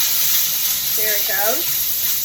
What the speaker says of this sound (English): in case somebody does not know what it sounds like for a canner to jiggle